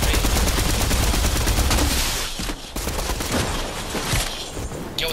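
Rapid bursts of gunfire from a Fortnite match rattle loudly and continuously through the first two seconds, then thin into scattered, quieter shots with brief gaps before a final sharp burst.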